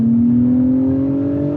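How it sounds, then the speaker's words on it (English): A 2024 Acura TLX Type S sedan's turbocharged V6 drones steadily, its strong harmonic note rising slightly in pitch as the revs climb, loud and close throughout with no talking. "listen to that engine note."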